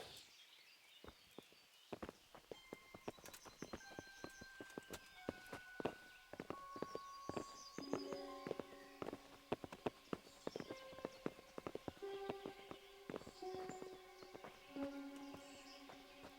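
Horse hooves clip-clop in a steady walking rhythm in the medieval video game Kingdom Come Deliverance, quiet and close, with game music notes and other soft noises layered around the footfalls.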